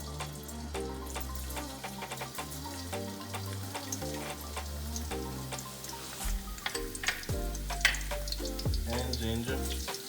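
Garlic sizzles in a hot pan with a steady crackle and the scrape of stirring, close by, under a low tonal hum with no speech.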